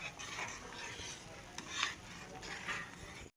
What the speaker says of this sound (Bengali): আর তো নাড়তে হবে নাড়লে পরে তলায় লেগে যাবে